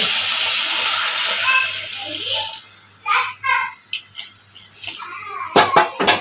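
Water pours steadily into a biryani pot of fried rice and softened meat for a couple of seconds, then stops as voices, including a child's, talk nearby with a few clinks.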